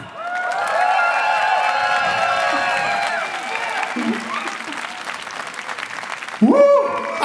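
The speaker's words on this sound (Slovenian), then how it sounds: "ploskajte, vriskajte, dajte mu občutek, da boljš ga ni" A large outdoor crowd at a comedy show on a city square applauds and cheers for a comedian, a loud sustained wash of clapping and shouts that fades as a voice speaks over it, with a brief burst of sound near the end.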